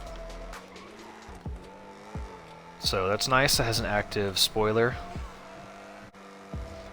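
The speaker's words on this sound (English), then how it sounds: "engine sounds great. It kind of sounds like a muscle car, but like a super muscle car" Ocelot XA-21 supercar engine in GTA Online, a deep muscle-car-like roar rising and revving in several bursts through the middle, with talk over the quieter start and end.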